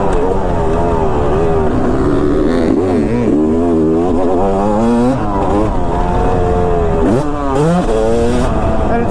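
A Yamaha YZ250 two-stroke dirt bike fitted with an Apex head and carb mods revs hard and accelerates. Its loud, continuous engine note rises and falls through repeated throttle sweeps across the whole stretch.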